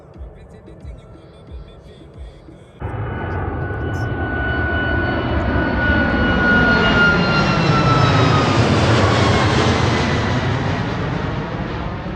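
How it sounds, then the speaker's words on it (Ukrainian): An airplane passes overhead in a rural setting, its engine roar swelling in abruptly and holding loud and steady with a slowly shifting pitch, while a voice speaks briefly beforehand. "Літак."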